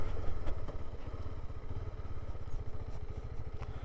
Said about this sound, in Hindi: एक बाइकर सामने से आ रहे हैं, वो भी KTM